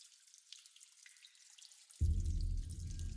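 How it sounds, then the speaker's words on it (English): A fantasy tabletop game's lava sound effect resembling water dripping in a cave: faint high drips and trickles, then a louder bubbling, sizzling wash swelling in partway through and continuing steadily. "I know it's supposed to be like water in a cave, but it sounds like taking a leak."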